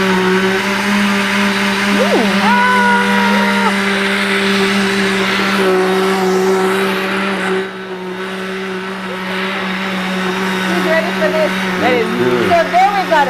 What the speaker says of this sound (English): blender action